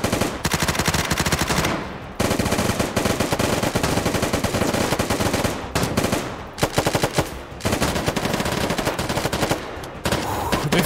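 Rapid gunfire from the video game Unturned, where a sniper rifle is in use, rattling in dense, loud continuous bursts broken by a few brief gaps.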